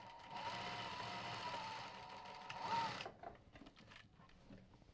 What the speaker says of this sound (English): just sew right the way around to this other mark down here